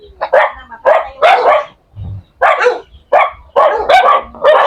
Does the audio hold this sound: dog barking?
yes